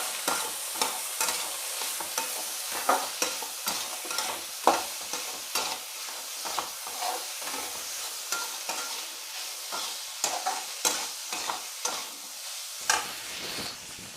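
A corn filling being stir-fried in a kadai: continuous rhythmic scraping of a spoon against the pan over steady sizzling, close and moderately loud throughout.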